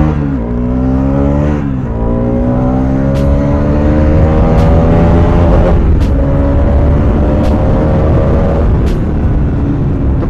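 A Bajaj Pulsar RS200 motorcycle on a night ride accelerates hard over a bump, the engine climbing through rising revs with brief shift dips, loud and close, with sharp clicks scattered through.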